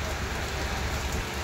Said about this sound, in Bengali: একটু বৃষ্টিটা কমুক